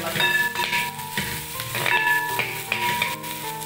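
Sliced onion and capsicum fry in a pan for chilli tender jackfruit, a steady sizzle with clinks and scrapes of stirring over the top and a faint tonal hum running beneath.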